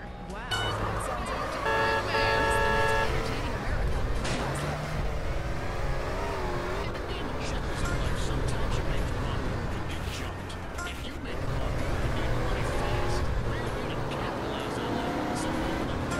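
Car engines rev and roar through a street race in GTA San Andreas: The Definitive Edition, loud and sustained with shifting pitch, while voices talk over the engine noise.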